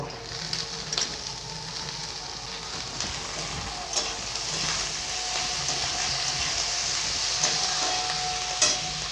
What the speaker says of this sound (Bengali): পেঁয়াজটা দিয়ে দিব পেঁয়াজগুলো লাল হয়ে গেছে গাজরগুলো দিয়ে দিব